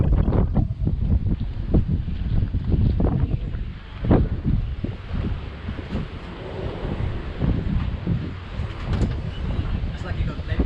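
Strong, steady wind buffets the microphone around a luxury super yacht docking in very high winds, a continuous roaring rumble with gusting pulses throughout, and voices talk over it.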